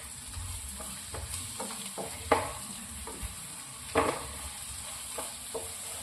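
Masala fries in a pan while curry leaves with their stems go in for a fish pollichathu, a steady soft sizzle broken by a few sharper scrapes and clatters of stirring, close and without voices.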